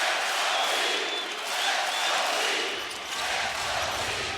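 Roaring basketball arena crowd at an NBA Finals game in Miami rising to its feet and cheering, a loud sustained wash of voices that swells and dips without letup.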